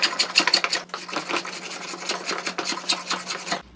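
A hand tool blade shapes a 45-degree chamfer on a wooden drawer pull in rustic joinery, a close, rapid run of dry rasping strokes with short pauses between them.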